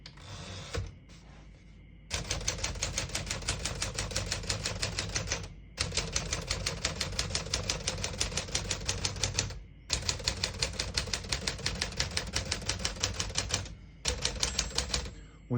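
A 1956 Smith-Corona Sterling portable typewriter clacks steadily and closely as someone types in dense, rapid runs of keystrokes. Brief pauses separate the bursts, with a carriage or lever clunk between them.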